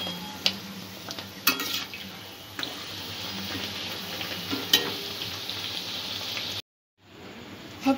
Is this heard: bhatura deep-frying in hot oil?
yes